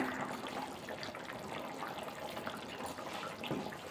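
A pot of fish curry broth with tomato comes to a boil, giving a continuous bubbling, watery rush at moderate volume with no talk over it.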